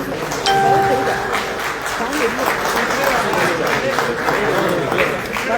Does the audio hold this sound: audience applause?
yes